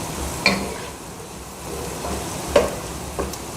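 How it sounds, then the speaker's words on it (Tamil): Tomatoes for a vegetable pasta sizzle in a pan as they are sautéed, a soft continuous fry with a few distinct scrapes of a spatula stirring at intervals, close by. "அப்படியே 2 நிமிஷம் வதக்கிட்டுருக்கலாங்க"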